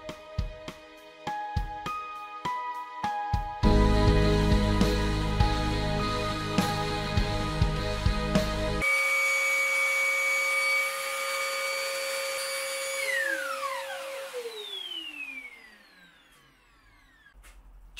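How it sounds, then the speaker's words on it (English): A wooden pen box is sanded on a motorized sander, with a humming motor, a loud rough grinding stretch in the middle, then a falling whine as the machine spins down and fades out. "it's very easy just to take the box and just sand it like this"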